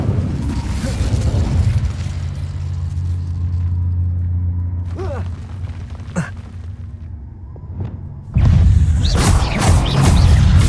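A fire spell cast in a Harry Potter video game: a low rumbling bed of magical noise with brief whooshes, then a sudden loud, roaring fiery burst that sustains to the end.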